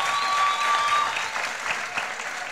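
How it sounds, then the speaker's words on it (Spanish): A Barranquilla television audience at a vallenato program gives brief, loud, dense applause, steady clapping from a crowd that fades slightly toward the end. "Se merece un aplauso."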